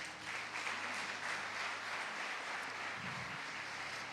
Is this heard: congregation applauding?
yes